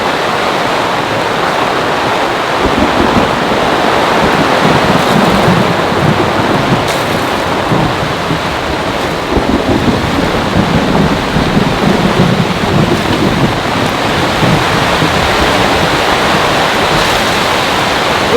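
Heavy rain pounds steadily on a camping tarp in an intense storm, a dense, loud, unbroken roar of water with no letup and no voices.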